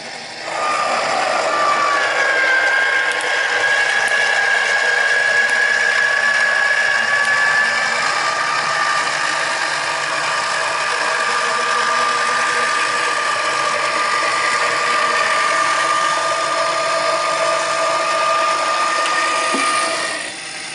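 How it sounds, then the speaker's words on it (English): Die cutting machine running with a craft die, a loud, continuous mechanical whir with a ratcheting, geared grind and faint whining tones, steady for about twenty seconds before stopping, with no talking. "I'm just going to run this through my die cutting machine just like so."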